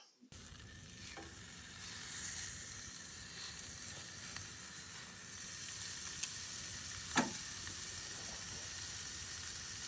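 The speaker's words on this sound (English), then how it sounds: "it's about time for me to go and start the steaks" Steaks sizzle in a hot pan in a steady, quiet frying hiss, with a few faint clinks and pops and one sharper tap near the end.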